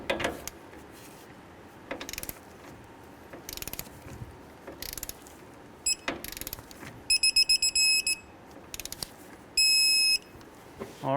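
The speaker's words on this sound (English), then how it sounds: "Now we can torque our tie rod end down to 32 foot-pounds." A torque wrench ratchets a tie rod end tight on a 2003-2011 Honda Element during strut mount work, giving sparse nearby mechanical clicks, then brief bursts of rapid ratcheting and a sharp click as it reaches torque.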